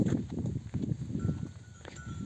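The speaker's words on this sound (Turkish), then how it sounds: "Koyunlar birbirine girmişler," A flock of sheep jostling together in a rural Turkish village, giving a dense, close bustle of shuffling hooves and animal noise, with a faint bell or bleat near the end.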